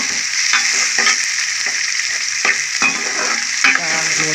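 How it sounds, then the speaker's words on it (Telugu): Thinly sliced onions fry loudly in oil in a kadai, giving a steady close sizzle. Stirring adds several sharp scraping knocks, and no one speaks. "కళాయి పెట్టుకుని ఆయిల్ కూడా వేసుకున్నాను అనమాట ఇందులో ఉల్లిపాయలు వేసుకుందాం"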